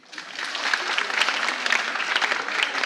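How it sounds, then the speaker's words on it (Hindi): An indoor audience gives loud, dense applause after a personality talk in a Hindi motivational session, many hands clapping steadily for about three seconds with no voice on top. "जोरदार तालियां उनके लिए"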